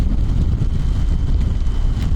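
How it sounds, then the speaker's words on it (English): Steady, loud wind buffeting the microphone with a dense low rumble throughout; any rain is lost in the gusty roar. "It's windy and it's raining"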